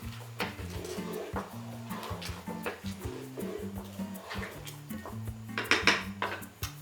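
A spoon stirs pectin into plum, cherry and jalapeño jam in a cooking pot, making repeated clinks and scrapes against the metal over a steady tonal hum.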